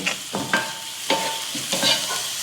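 Beef roast sizzles in a pan as a spoon stirs and scrapes it in several quick, close strokes, with a steady frying hiss between them and no talking.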